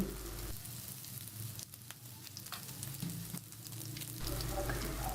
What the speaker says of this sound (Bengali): তেল গরম হয়ে গেছে সবগুলো চপ একটা একটা করে ভেজে নিচ্ছি